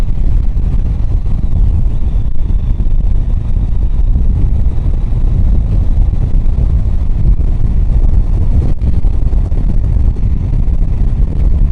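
A Triumph Tiger 800 motorcycle rides along, its low engine rumble mostly buried under heavy, constant wind buffeting on the microphone.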